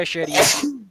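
A single sharp human sneeze, close and loud, with a voice briefly speaking just before it.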